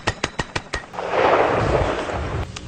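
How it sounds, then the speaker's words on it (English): Gunshots from hunting and self-defense guns fired in three-shot groups: a rapid string of sharp, loud reports, followed by a broad roaring rumble and one more distant crack near the end. "We're firing 3-shot groups because most of the guns that we have here are set up for hunting or self-defense"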